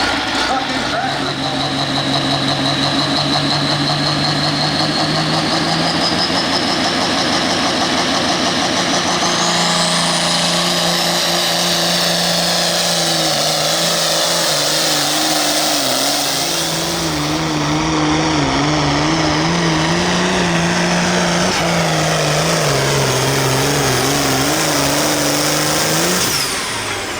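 A pulling tractor at a truck and tractor pull shootout in Carthage, Missouri, its engine roaring loud and sustained, revs climbing and wavering as it pulls, with an announcer talking over it.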